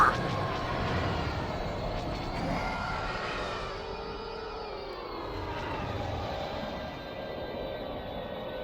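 Bomber aircraft in the 2005 PC game Star Wars: Battlefront II roars past in a steady, loud engine drone, the pitch sweeping and shifting over several seconds with a dense rumbling layer beneath, no voices.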